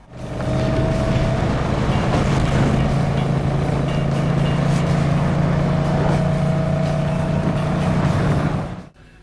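In a scene from the film Death Proof, a car speeds along with a loud, steady engine roar and constant road rumble that runs unbroken for about eight seconds, then cuts off abruptly.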